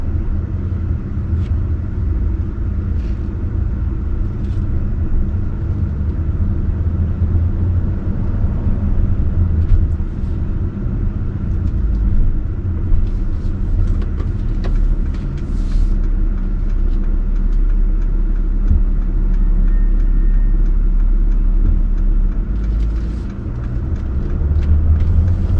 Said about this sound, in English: Slight touch of the throttle. I haven't driven this one before, and it just takes off.